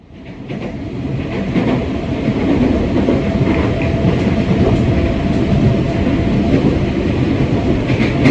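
Steady rumble of a KRL commuter train interior heading toward Nambo, with continuous wheel and rail noise, faint clickety-clack and a low hum, rising quickly from a quieter start and holding level throughout.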